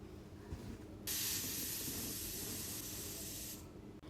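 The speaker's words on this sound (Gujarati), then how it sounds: "ગેસની ફ્લેમ મીડિયમ રાખી" A pressure cooker of masala rice on a medium gas flame lets out a loud, steady hiss of escaping steam that bursts in suddenly, holds for about two and a half seconds, then cuts off.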